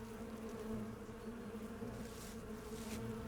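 Insects buzz in a low, unbroken drone in Sucker for Love: Date to Die For, soft and steady from start to finish, heard alone without talking.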